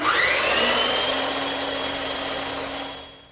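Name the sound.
bandsaw cutting wood tenon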